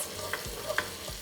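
Onion sautés in butter in a soup pot before garlic is added for loaded potato soup, with a quiet steady sizzle and a few soft stirring strokes close by.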